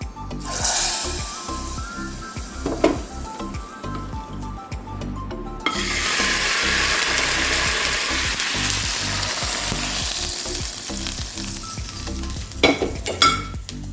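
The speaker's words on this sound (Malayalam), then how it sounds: "കുറച്ച് മുളക് പൊടി ഞാനൊന്ന് ചൂടാക്കുന്നുണ്ട് ഇത് നമുക്കിനി കൂട്ടാൻ്റെ ഉള്ളിലേക്ക് ഒഴിച്ചു കൊടുക്കാം" Chili powder heated in oil for a Kerala cucumber pulissery, starting with light stirring clinks, then a loud, sustained sizzle as the hot tempering is poured into the curry.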